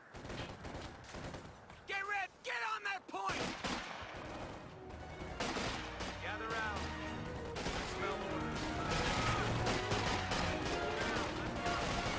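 Gunfire rattles in the World War II strategy game Company of Heroes 2, with dense bursts of rifle and machine-gun shots and explosions over battle noise, while voices shout orders throughout.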